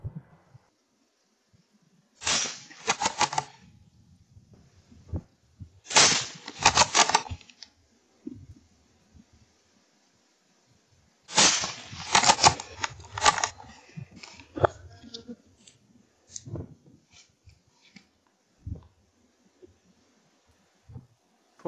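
A Lithgow .17 HMR rifle fires at rabbits on a warm evening: three sharp cracks spaced a few seconds apart, each followed by a short decaying echo, with faint rustling and small noises between them.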